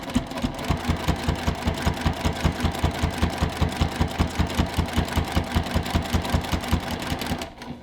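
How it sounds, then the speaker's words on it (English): A sewing machine stitches bias tape along the edge of a quilted pot holder in a fast, even, rhythmic chatter that runs steadily and stops near the end; no talking. "we're going to sew down the edge of this bias tape just to close it up"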